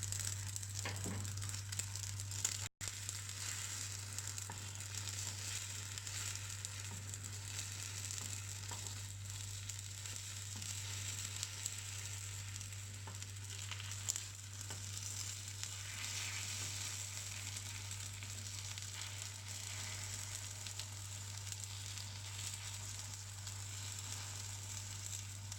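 An egg omelette with flax seeds frying in a pan, with a faint, steady sizzle that runs unbroken and alone throughout.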